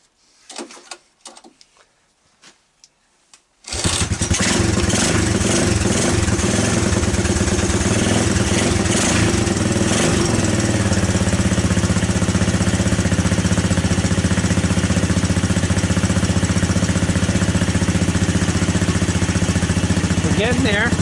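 A Honda ATC200S three-wheeler engine fires up from cold with the choke on and settles into a loud, steady running idle, with a few faint knocks and rustles before it starts.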